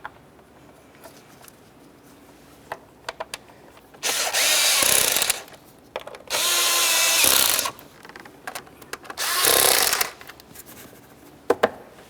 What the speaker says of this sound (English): We'll start in all 3 of the bolts and then snug them up.